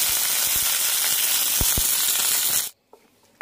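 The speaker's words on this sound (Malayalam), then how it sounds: "ഇനി ഇതിലേക്ക് കടുകും കറിവേപ്പിലയും താളിച്ചിടാം." Mustard seeds and curry leaves sizzle in a hot pan as a tempering for chutney, a loud close steady hiss with a few sharp pops that cuts off abruptly near the end.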